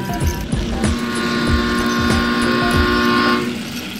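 A train horn sounds with a sustained tone over rhythmic clattering of wheels on track, loud and close, fading near the end.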